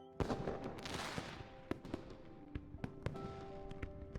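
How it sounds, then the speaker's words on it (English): Fireworks burst over the end of a music festival in a video game: sharp cracks and popping bursts with crackling trails, one loud volley after another above a soft background music bed. "The dark sky is pierced by a shrieking trail as fireworks explode."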